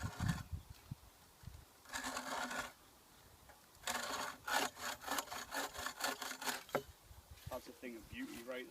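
Hand saw cutting through wood at a debris village, coming in several bursts of rapid back-and-forth rasping strokes with short pauses between, fairly close, with people talking faintly in the background.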